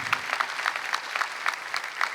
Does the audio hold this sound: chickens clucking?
no